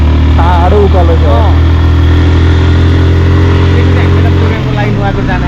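A scooter climbing a steep uphill road on the way to Nuwakot, its engine a steady, close, low drone throughout, with a brief voice speaking early on.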